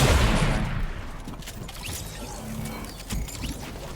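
Sniper gunshots in a multiplayer video game, a loud booming shot at the start followed by quieter distant gunfire and clattering game effects.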